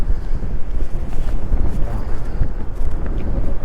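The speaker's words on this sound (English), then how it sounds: "It's so windy here, you just can't, nothing stays up." Strong wind roars and buffets the microphone in gusty, rumbling surges, loud and continuous throughout.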